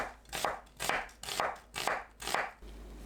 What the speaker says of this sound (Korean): 양파를 채 썰어주세요.